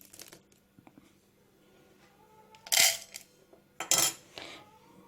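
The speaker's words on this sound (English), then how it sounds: "now I can go ahead and scoop out a good mix" Dry hamster food mix for a Syrian and dwarf hamster is scooped into a bowl, giving a few close, bright rattling clatters of small pellets and seeds against the dish amid light handling noise.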